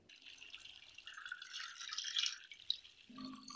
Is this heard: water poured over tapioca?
yes